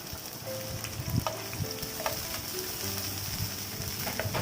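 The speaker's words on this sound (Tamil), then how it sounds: "வெங்காயம், நறுக்கிய வெங்காயத்தை போட்டு தாளிக்கலாம்" Steady sizzling and crackling of chopped onions frying in oil in a pan, continuous and fairly close, with occasional soft clinks of stirring.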